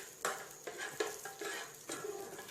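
Broken cashew nuts are stirred and roasted in a pan for ladoo, giving a few soft scraping strokes of a spoon against the metal, faint and close with a light sizzle underneath.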